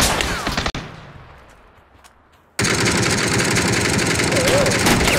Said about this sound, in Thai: มีคนยิง